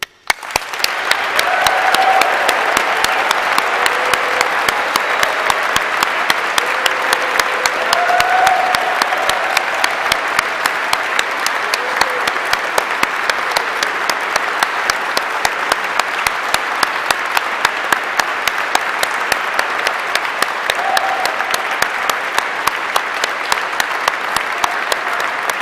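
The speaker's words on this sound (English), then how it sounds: "Let's give them an absolutely massive round of applause to raise the roof of this beautiful" Sustained, dense applause for Exeter graduates filling a large cathedral during a graduation ceremony, loud and reverberant throughout with faint voices rising briefly above the clapping.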